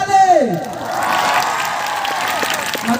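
Audience applauding loudly with cheering and whoops at a DJ dance event in Vishrampuri, a steady crowd roar with a voice and musical tones near the start.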